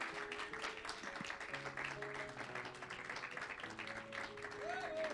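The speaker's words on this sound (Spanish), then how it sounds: "denle un aplauso al Señor" Church congregation applauding during a worship service, a quiet, distant patter of clapping under sustained organ or keyboard tones and a few voices.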